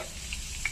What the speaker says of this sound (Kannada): ಒಂದು ಬಾಂಡ್ಲಿಗೆ ಹಸಿಮೆಣ್ಸಿಕಾಯಿ ಹಾಕೊಂಡು, ಆಯಿಲ್ ಹಾಕೊಂಡು, ಈರುಳ್ಳಿ ಹಾಕೊಂಡು ಫ್ರೈ ಮಾಡ್ಕೊತಾ ಇದೀವಿ